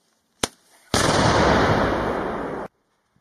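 An explosively formed projectile charge detonates in a single loud, close blast, a sharp crack followed by a sustained roaring burst lasting almost two seconds, then silence.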